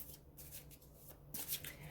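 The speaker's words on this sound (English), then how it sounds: "I've been meditating and shuffling on the cards" Tarot cards being shuffled by hand, with a soft papery riffle and flutter at close range that swells into a louder burst near the end, over a quiet low hum.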